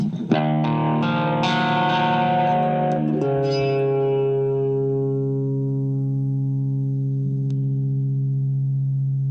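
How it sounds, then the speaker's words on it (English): A clean electric guitar plays a few picked notes, then lets a shimmering chord ring out and slowly fade, with a wavering chorus sheen. "These guitars sound really good with some chorus on them too."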